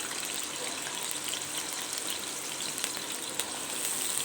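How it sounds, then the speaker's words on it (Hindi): Potatoes frying in oil for keema karela aloo, a steady bright sizzle with faint crackles and pops, close and alone with no talk. "पानी में बिल्कुल भी इनको नहीं पकाना क्योंकि करेले जो आपको पता है कड़वे हो जाते हैं, इसलिए मुझे इनको फ्राई करना है।"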